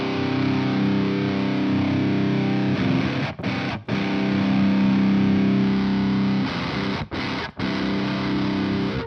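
A distorted electric guitar running through an amp simulator blending two cabinet files chugs out thick, saturated riffs with a dense midrange, broken by a few brief palm-muted stops and gaps.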